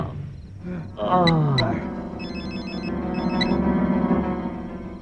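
A phone rings with short electronic trills, sounding twice and then repeating in a rhythmic pattern over a low, roaring background drone.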